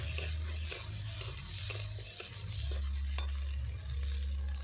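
Tilapia frying in a pan with eggplant and potato, steady sizzle beneath a spoon stirring and scraping, with soft rhythmic clinks throughout.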